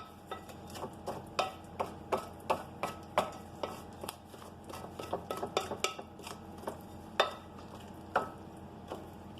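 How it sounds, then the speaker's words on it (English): A spatula mixes banana nut bread batter in a bowl and scrapes down the sides, making a close series of rhythmic scraping and tapping strokes, roughly two per second, with no voice. "So now you just want to mix this up"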